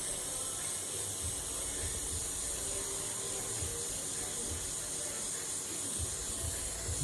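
Paint spray gun run at turned-down compressor air pressure while coating a car's quarter glass, a steady broad hiss that holds constant throughout, close and even with no breaks or talking.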